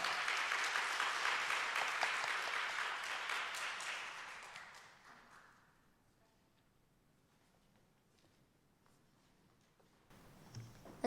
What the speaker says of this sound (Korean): 하루 어린이 나올 때 큰 박수로 맞아주시기 바랍니다.